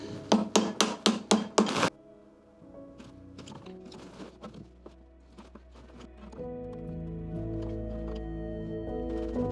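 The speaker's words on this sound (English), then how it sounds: "Small chisel right into the corner really helps to remove the waste" A small chisel struck into the corner of a wood dovetail to remove waste: about seven sharp, evenly spaced mallet-like knocks up front, followed by softer scraping and paring over a steady background hum.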